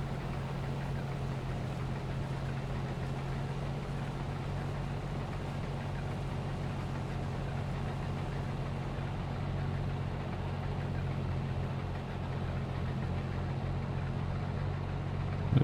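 Tractor engine in Farming Simulator 22 runs steadily throughout, a continuous low droning hum at constant loudness with no talk over it.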